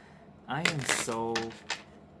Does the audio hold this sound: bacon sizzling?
no